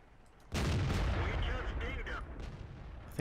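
A tank cannon shot striking an enemy turret in World of Tanks, a loud close boom that rolls on for several seconds and slowly dies away.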